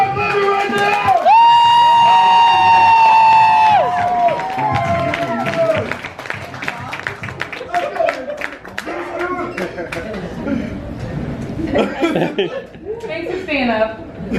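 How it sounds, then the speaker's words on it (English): An audience claps and cheers at a spoken word poetry performance, with lively applause and scattered laughter building across the room while a voice talks over the crowd. "Just start clapping. Start clapping right now!"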